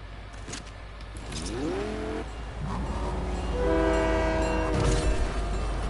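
A train horn sounds inside the Fortnite video game on PS4, a loud, sustained multi-tone blast that bends in pitch and repeats, with steady rail rumble beneath and no talking.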